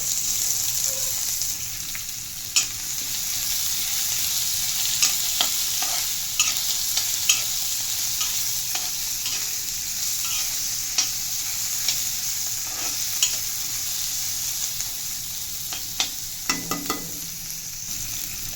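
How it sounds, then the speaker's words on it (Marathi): Onion frying in hot oil alongside fried peanuts, with a steady loud sizzle throughout and frequent sharp clicks of stirring against the pan. "आणि आता मी त्याच्यातच लगेच कांदा टाकून देते."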